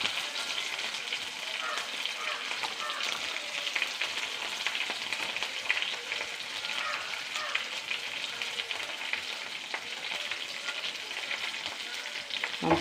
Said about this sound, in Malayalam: നമുക്ക് മുളകിടാം. ചുവന്ന മുളക് ഇട്ടു.